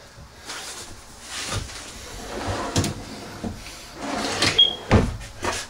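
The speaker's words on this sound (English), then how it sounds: "You got full extension ball bearing drawer guides." A closet drawer in a cedar log cabin tiny house slides on full extension ball bearing guides, with several close rolling glides and soft knocks as it opens and shuts.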